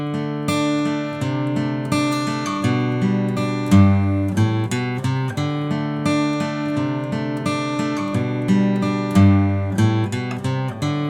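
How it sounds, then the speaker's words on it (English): Acoustic guitar strings are plucked one at a time in a flowing arpeggiated pattern, notes ringing over one another, steady and fairly close. "You can sort of hear these strings being plucked individually."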